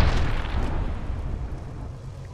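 A grenade explosion in the video game Apex Legends, a loud heavy boom with a deep rumbling body that slowly decays over about two seconds, with no talk.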